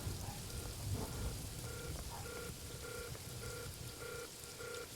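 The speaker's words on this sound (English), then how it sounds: "It's raining." Steady rain pours down in the video game Paradise Killer, a continuous dense hiss filling the scene, with faint repeating electronic tones pulsing underneath and no talk over it.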